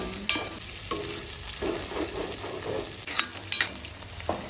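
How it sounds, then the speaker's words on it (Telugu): Onions and prawns fry together in a pan for a Telugu-style prawn fry, giving a steady close sizzle with occasional stirring scrapes and clicks. "ఉల్లిపాయలతో పాటు రొయ్యలు కూడా బాగా వేయగలండి వేగితే టేస్ట్ బాగుంటుంది"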